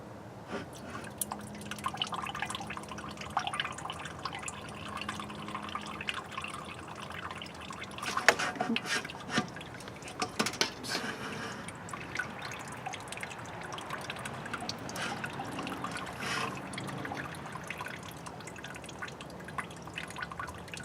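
Liquid drains and drips steadily from a tilted mass of spent brewing grains for a Vienna lager, a continuous close trickle with scattered drops and a few brief louder splashes.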